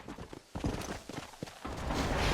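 A horse gallops in Red Dead Redemption, its hoofbeats drumming quickly and loudly, with rushing wind and game background noise swelling toward the end.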